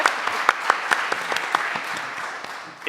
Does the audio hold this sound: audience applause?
yes